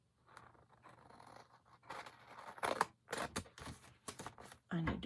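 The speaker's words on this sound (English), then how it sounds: "let's cut these slices again." Scissors cutting paper slices for a craft explosion box, several crisp close snips and rustles in an irregular rhythm, quiet and near, with soft talk at times.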